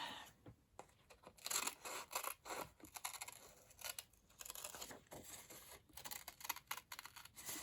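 Scissors cut out a thick book page for a card craft, with repeated crisp snips and tearing, crinkling paper sounds close by, fairly quiet and alone.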